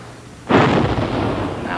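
A cartoon pirate ship's cannon fires a single sudden booming blast, followed by a sustained rumbling roar that stays loud to the end, with no talking over it.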